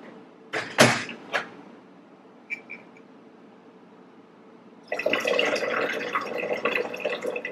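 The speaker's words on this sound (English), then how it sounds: "And then I fill the rest of the jug up with water." A kitchen jug of lemon water is topped up from a tap: a few sharp knocks and clinks come first, then steady rushing water fills the jug for the last few seconds, close and clear.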